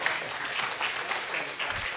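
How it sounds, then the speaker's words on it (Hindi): Applause from the audience at a Hindi-Urdu poetry mushaira comes as a dense, steady patter of many clapping hands, sustained and fairly loud throughout. "एक बार खड़े होकर एक बार जोरदार तालियां सारे लोग बजाएं"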